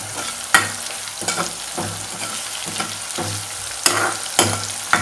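Onions and green chillies frying in a pan over raised heat for Punjabi-style dal tadka, a continuous sizzle broken by repeated loud scrapes and clatters of stirring at irregular intervals.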